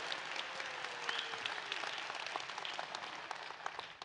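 A large room of people claps in a loud, continuous round of applause for 119 people standing up, with individual claps popping through a dense, even wash.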